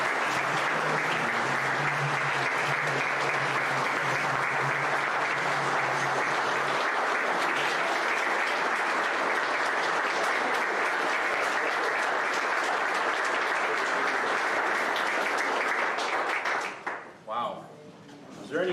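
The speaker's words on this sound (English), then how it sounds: "Let's give him another round of applause" Loud, sustained applause fills the hall at a Montgomery County State of the County address, a continuous crowd roar of clapping that cuts off abruptly near the end, leaving brief quieter sounds.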